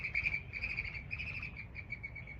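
Birds, including pigeons, give repeated high chirps over a low rumbling outdoor background, moderately close and steady throughout, with no talking.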